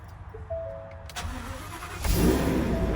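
A Ford F550 truck engine cranks and fires up, settling into a loud, steady rumble close by after a few quiet electronic chimes.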